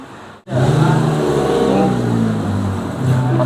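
A motorcycle engine revs loudly and steadily after a brief cutout near the start, its sustained roar swelling again toward the end.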